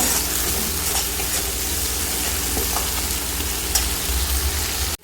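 Poppy seeds fry in a pan with a dense, continuous sizzle and faint stirring clicks, close and steady, before cutting off abruptly at the end.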